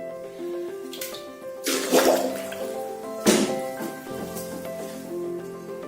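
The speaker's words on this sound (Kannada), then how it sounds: "ಇಂಡಿಯಾ ಇಂದ ತರಿಸಿದ್ದ ಮಡಿಕೆಗಳನ್ನ ನೀರಲ್ಲಿ ನೆನೆಸಿಡ್ತಾ ಇದ್ದೀನಿ." Imported clay pots are soaked in water, with splashing and sloshing surges that come close and loud, over a steady tonal hum in the background.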